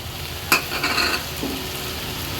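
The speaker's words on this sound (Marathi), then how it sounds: "आता ही भाजी पुन्हा मिक्स करून घ्यायची आहे" Fenugreek leaf bhaji with salt and grated fresh coconut being stirred and sautéed in a pan, a spatula scraping through it with a sharp clatter followed by a steady, close sizzle.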